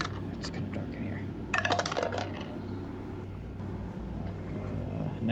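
Dice rattle and tumble across a table during a tabletop role-playing game session, in two quick close clattering bursts followed by a low room hum and faint background voices.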